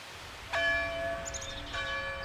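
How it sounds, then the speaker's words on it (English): A bell erected in the center of a settlement clangs twice, one loud ringing strike left to decay before a second strike rings out, with no voices around it. "we'd hear the clanging of a bell that Mr. Oglethorpe had erected right in the center of the settlement"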